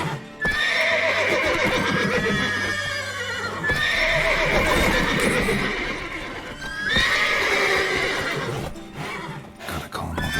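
In Witcher 3: Wild Hunt, horses repeatedly neigh and whinny in long, loud bursts mixed with clopping hooves, close and agitated, with a brief sound of movement between the calls.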